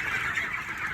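A flock of chickens on a poultry farm makes a steady, dense clucking din that stays fairly close and even for the whole second, with no talking.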